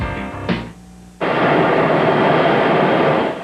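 An airliner's jet engine roars loud and steady while passengers board. It comes in abruptly after a short stretch of other noise and holds a constant, broad rush.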